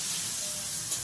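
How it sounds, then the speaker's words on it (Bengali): Green chillies fry in a hot pan, giving a continuous close hissing sizzle with slight crackle throughout the short moment, no voices. "মরিচ টরিচ ভাজা হয়ে গেছে"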